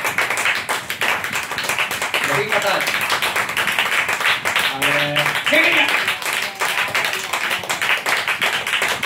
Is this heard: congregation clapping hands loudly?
yes